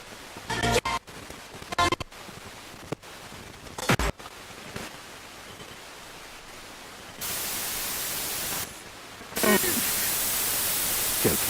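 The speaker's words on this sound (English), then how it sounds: "I might run some white noise in the background" White noise runs in the background as a flat, steady hiss that comes in two loud stretches, after a quieter opening broken by sharp clicks and short bursts.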